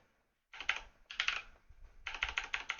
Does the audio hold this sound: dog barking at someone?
no